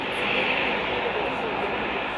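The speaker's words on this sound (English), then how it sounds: "The planes take to the runway and begin to taxi out." Military aircraft of the Kenya Air Force taxiing out to the runway at an air base, a steady broad engine roar and whine held at an even level throughout, with no gaps.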